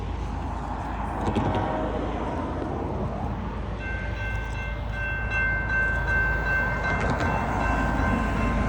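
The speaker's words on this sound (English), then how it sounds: "Train's coming!" A BNSF freight train passes close by in Oregon with a loud continuous rumble and rattle of railcars, joined midway by a sustained horn blast that holds for several seconds.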